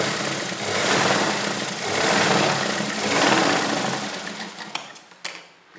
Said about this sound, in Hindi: यहाँ पर भी हम डबल सिलाई लगा लेंगे मजबूती के लिए।